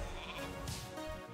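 A mage's sheep spell in a video game lets out a short, close bleat under the game's steady background sound.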